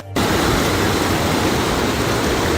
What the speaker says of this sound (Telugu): సో వాటర్ అయితే ఫుల్గా పొంగిపోతున్నాయి. ఇది ఒక మినీ వాటర్ ఫాల్ లా ఉంది